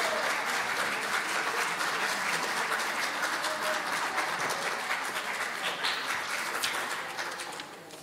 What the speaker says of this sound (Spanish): Los aplausos vayan para ustedes mismos, porque son bienvenidos